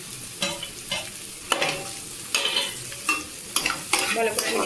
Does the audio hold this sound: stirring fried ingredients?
yes